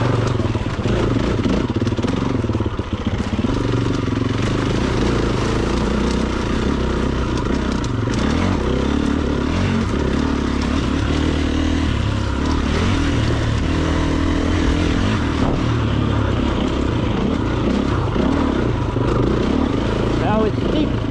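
A Stark Varg electric dirt bike on an enduro trail, its motor whine mixed with steady clatter and rushing wind noise from a close rider-mounted perspective, continuous and loud, with occasional talk.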